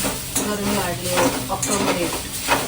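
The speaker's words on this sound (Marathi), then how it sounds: "खोबरं चांगलं भाजलं गेलं पाहिजे" Coconut roasting in a hot pan while being stirred, with a steady sizzle and repeated scraping and clinking of a utensil against the pan, close and continuous.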